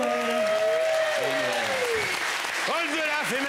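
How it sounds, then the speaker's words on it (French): Studio audience applauding steadily after a Christmas song, a dense, continuous wash of clapping at moderate volume with people talking over it. "Tout le monde applaudit encore."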